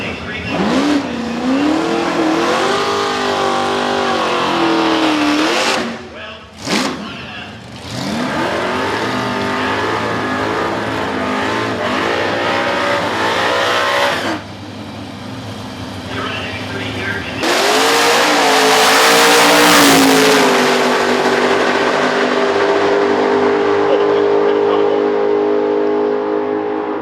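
Drag racing cars roar down a quarter-mile strip during elimination rounds. Loud engines rev and sweep up in pitch through repeated gear changes, briefly drop out, then return as another powerful launch and pass.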